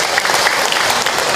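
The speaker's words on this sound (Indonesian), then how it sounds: "Tepuk tangan buat kita semua." Audience applause at an Islamic religious lecture, a steady dense clapping from a crowd that fills the whole short moment without a break.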